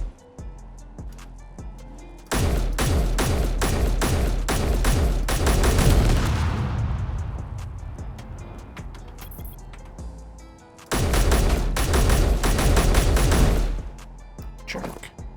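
An automated gun turret in Space Engineers firing rapid bursts of regular shots, two long loud volleys separated by a gap, with quieter ticking shots at the start.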